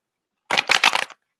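A deck of playing cards is riffled in one quick, crisp burst of rapid fluttering snaps lasting under a second, close and loud against silence.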